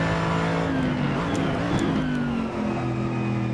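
Race car tires locking up under braking in the Assetto Corsa racing game, a steady engine drone with tonal tire squeal sweeping across the brief stretch, no talk.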